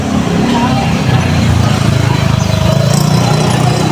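A tricycle's small motorcycle engine runs steadily and close by in a hot street setting in Lopez, Quezon, with a continuous low rumble and no clear talk over it.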